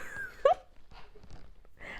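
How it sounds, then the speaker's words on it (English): A dog whimpers close by in short, high, plaintive yelps, with one sharp squeal and then a few softer whines spread over two seconds. "That's my dog."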